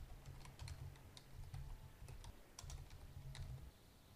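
Someone types code on a computer keyboard with quick, soft key clicks in short bursts and brief pauses. The keystrokes are close but quiet.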